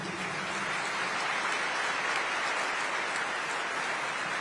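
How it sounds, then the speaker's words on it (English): Audience applause fills the hall at a national address, a steady dense wash of clapping that holds evenly and fairly distant with no voices over it. "And now I ask everyone to applaud every great heart."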